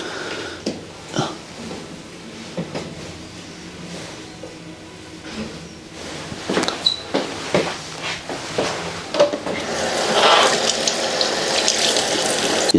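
Water runs from a tap into a sink or basin during a baby's bath, a steady close splashing wash that grows louder and fuller toward the end, with small knocks and squeaky baby sounds mixed in.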